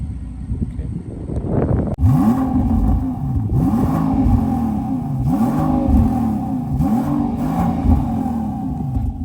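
A 2023 Rolls-Royce Cullinan with a Capristo aftermarket exhaust revs up hard, then rises and falls in repeated loud pulls, deep rumbling exhaust close by with no talking.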